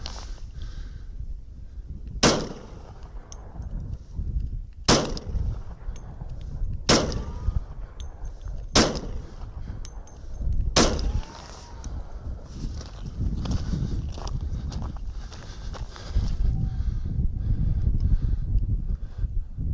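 10mm pistol firing Speer Gold Dot 200-grain rounds from a standard-length barrel, five sharp, loud shots spaced about two seconds apart, with quieter handling noise between them.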